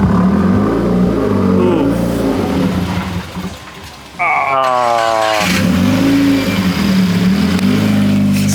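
Subaru WRX with a fully built IAG engine, a rough steady engine note that dips, then a sharp rising rev with climbing harmonics before settling back to a loud idle, with a short exclamation from a person.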